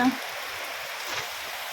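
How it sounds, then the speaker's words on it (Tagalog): Steady, dense hiss of heavy rain falling, constant and fairly loud throughout. "ang lakas ng ulan"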